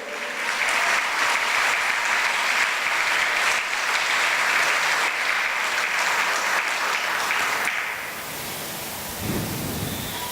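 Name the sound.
congregation applause in church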